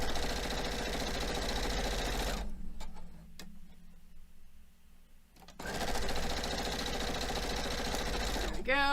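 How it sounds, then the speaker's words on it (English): A sewing machine stitches quilt pieces with a scant quarter-inch seam in two steady, buzzing runs, stopping for a few seconds of quiet in the middle, then a voice speaks right at the end. "I'm sewing each of these with a scant 1/4 inch"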